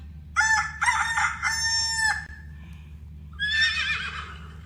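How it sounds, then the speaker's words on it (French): A horse whinnies in one long, high, shaky call, followed after a short gap by a second rougher neigh, near and clear over a low background hum. "Cheval. Horse."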